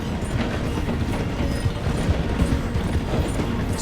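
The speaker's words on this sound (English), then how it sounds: "The train is slowing down to go through the station." A train rolls through a station in the video game Red Dead Redemption 2, a steady, dense mechanical rumble that stays loud and even throughout, with no voices.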